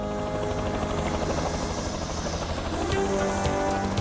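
A helicopter's rotor thumps and engine drone fill the clip, loud and continuous, as it flies nearby.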